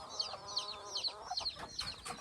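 Chickens cluck repeatedly in quick, uneven bursts at moderate distance, with no talking.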